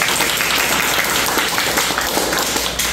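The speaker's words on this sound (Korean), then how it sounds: "박수 한번 주세요" Audience applause at a Korean Buddhist lecture fills the whole stretch, a dense, steady wash of many hands clapping at close range, with no talk over it.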